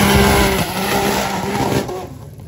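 A car at a drag race launches in a wheelie with a loud close engine roar and tire noise that fades over a couple of seconds.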